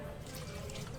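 Water poured into a pan for a fish curry, a soft, steady splashing pour held for about a second, close but fairly quiet.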